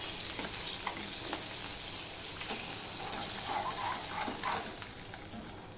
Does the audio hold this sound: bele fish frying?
yes